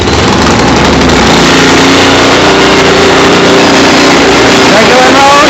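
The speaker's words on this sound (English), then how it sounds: "So we're turning the engine on," A Honda GC160 small engine on a Cub Cadet tiller, under repair after a critter got into the carburetor, runs loud and close with a steady buzzing drone, while someone talks over it.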